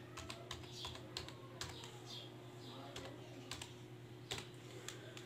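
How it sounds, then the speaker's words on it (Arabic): Computer keyboard keys tapped in quick irregular bursts while entering a password for a website registration, faint close-up clicks over a steady electrical hum. "انا هبدأ اكتب وليكن اسم بالانجليزي يا شباب الاول، وابدأ بعديها اكتب اي حروف او اي ارقام"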